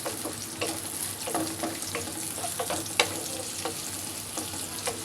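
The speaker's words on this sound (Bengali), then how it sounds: "পেঁয়াজটা একটু ভেজে নিয়ে দিচ্ছি।" Chopped onions fry and sizzle steadily in a pan while being stirred for a mutton and mung dal dish, with a continuous hiss broken by frequent soft scraping strokes, close and moderately loud.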